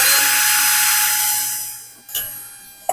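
A power drill bores a hole through the aluminum of a Piper Super Cub wing, a loud steady high whine that fades over two seconds, followed by a brief knock and a short burst at the end.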